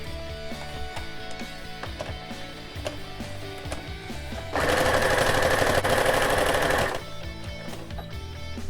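A sewing machine stitches the sides of a doll's hat together for an 18-inch doll, a dense rapid needle clatter running steadily for about two seconds mid-clip between quieter handling sounds.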